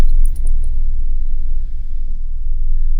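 A Ford F-150 pickup's engine runs with a steady low rumble while a misfire is being diagnosed, with a brief jangle of keys near the start. The idle carries on alone without talk.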